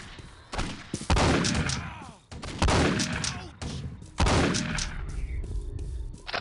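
Gunfire in the video game Postal 2 comes as three sharp, loud bursts of rapid shots about a second apart, each trailing off into a short echoing tail.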